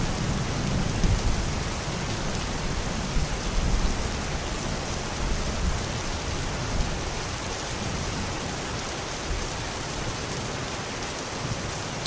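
Steady rain falling, a dense continuous hiss and patter at even loudness with no breaks, close and full.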